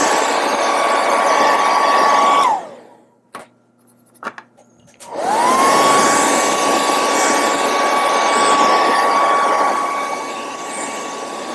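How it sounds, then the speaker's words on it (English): A hair dryer blows steadily on a painted quarter-scale Hellboy figure, running loud and close with a steady whine, cutting off briefly with a few clicks and knocks, then starting again. "This I'm going to hit with the hair dryer for a second."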